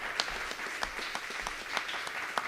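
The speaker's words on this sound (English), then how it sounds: "I want another round of applause for Christy Mitchell and her team at SEBA" An audience at a community forum applauds in a modest, loose patter of clapping, fairly soft and roomy, with a few sharper individual claps standing out through the short stretch.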